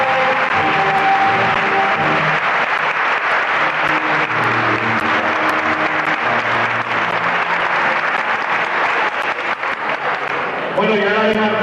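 Audience applause at the 1993 Falles proclamation of the Falleres Majors in Carcaixent, honouring the Junta Local Fallera president, a dense steady wash of clapping running throughout with music and voices mixed underneath.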